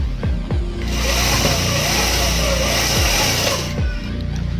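A sewing machine stitching a patiala salwar, a loud, steady mechanical whir running continuously for several seconds, with brief pauses at the start and end.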